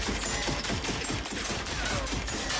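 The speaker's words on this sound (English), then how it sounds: "I gotta kill you before the turret starts shooting again." An automated turret in The Outer Worlds 2 sprays steady, rapid gunfire, a dense continuous rattle that fills the whole moment with little pause.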